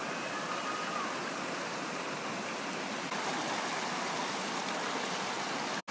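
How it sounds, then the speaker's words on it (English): Natural hot spring water at Kusatsu-Shirane flowing down toward the Yubatake, a steady broadband rushing and splashing like a stream or small waterfall, close and continuous throughout with no talk. "this natural hot water flows down into that Yubatake area"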